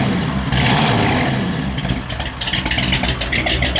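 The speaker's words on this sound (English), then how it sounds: "You can hear that cam working." A 1955 Chevrolet Bel Air engine runs with a loud, rough, choppy idle from its cam, a steady throaty rumble with uneven pulsing that continues throughout and carries no talk.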